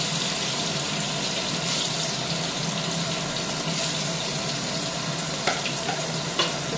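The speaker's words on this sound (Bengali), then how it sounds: "তেলটা গরম হয়ে গেছে, এবার আমি কুমড়োটা ভেজে নেব।" Pumpkin pieces fry in hot oil with a continuous, close hiss and bubbling sizzle. A couple of light clicks of a utensil come near the end, and no one speaks.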